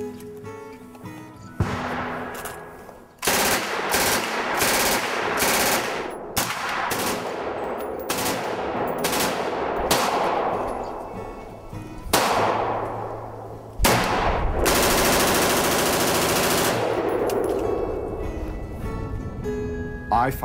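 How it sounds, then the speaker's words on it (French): Guns fire at a recreational shooting range in the United States: loud, sharp reports ring out one after another, some in quick bursts, each leaving a metallic ringing decay, with a few quiet gaps between volleys. "les coups de feu font beaucoup de bruit"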